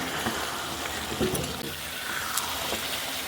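Beef being sautéed with spices in a pan for a Bengali beef curry, giving a steady close sizzle and frying crackle with occasional stirring scrapes.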